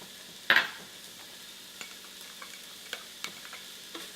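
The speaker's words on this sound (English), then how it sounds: "now I'm just going to be sauteing some onion and some garlic" Onion and garlic sauté in olive oil in a pot, giving a soft, low sizzle under an early sharp clatter and then a scattering of light taps of a utensil against the pot.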